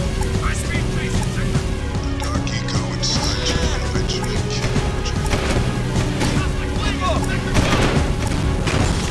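Bursts of gunfire aimed at the player in Uber Driver Simulator crack repeatedly over a running car engine and dense game noise, loud and cluttered throughout.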